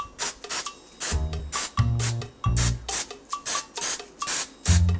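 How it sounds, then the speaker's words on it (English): Pam cooking spray hissing onto a muffin pan over a sink in short, close, loud bursts, about a dozen quick sprays in a steady rhythm. "Next, I'm going to spray my muffin pan with Pam."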